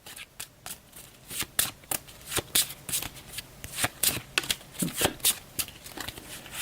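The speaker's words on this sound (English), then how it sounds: "So I'll give these a shuffle." Playing cards being shuffled for the Gloom of Kilforth board game, a rapid series of riffling, flicking bursts repeating steadily for several seconds, close and fairly quiet, with no talk.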